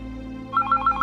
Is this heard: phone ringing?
yes